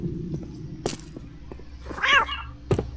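A cat in the video game Postal 2: Paradise Lost gives a drawn-out meow amid faint thumps and clicks of gameplay, fairly quiet overall.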